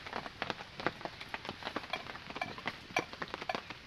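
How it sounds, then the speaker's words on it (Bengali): Monsoon rain patters softly on a surface, a faint, irregular stream of light drops and ticks with no voices. "আজকের মৌসুমটা দেখছো না বন্ধুরা কেমন জল পড়ছে"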